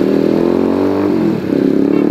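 A motorcycle engine revs hard through a loud aftermarket exhaust, a dense continuous roar that holds steady and dips briefly near the end before picking back up, close and alone with no talk.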